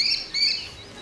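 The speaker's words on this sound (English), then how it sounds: "Is it a bird? Yes. OK, it's a bird." A kestrel calls in a short bird-call sound effect, two quick high-pitched chirping bursts, clear and alone.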